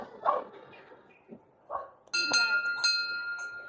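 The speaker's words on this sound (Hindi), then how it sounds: "सानू बजा घंटी।" A metal bell at a Shiva temple in a Himalayan village is struck twice, ringing out bright and sustained after a dog barks a few times and people talk nearby.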